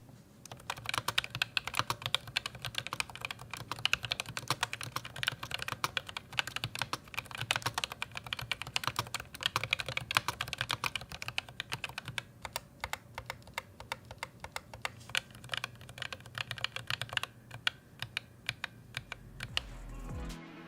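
Rapid, steady keystrokes rattle close-up on an ROG Claymore II keyboard fitted with RX Blue switches tuned to 55 grams, clicking continuously for about twenty seconds with no talking.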